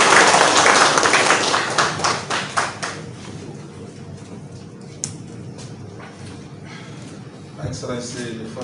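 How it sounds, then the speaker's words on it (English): Applause from an audience at a handing-over ceremony for donated medical items, a dense burst of clapping at the start that thins into scattered claps and fades under background murmur and voices. "Let's give him a round of applause."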